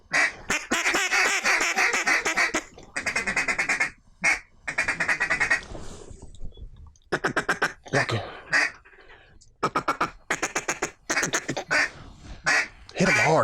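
Ducks quack and call in short bursts at a duck hunt in Arkansas, a northern shoveler among the waterfowl, with people talking over and between the calls.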